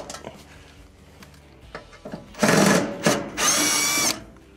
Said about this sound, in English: we must first remove the lower panel here with the two Phillips screws